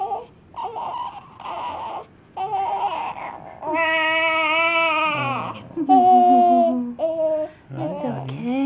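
A newborn baby in a hospital room cries in loud, broken wails separated by short gasps, rising into long sustained cries near the end.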